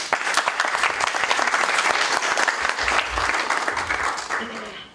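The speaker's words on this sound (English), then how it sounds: "Maybe a round of applause." Lecture audience giving a steady round of applause, dense rapid clapping filling the room at moderate distance for the full stretch, fading slightly at the end.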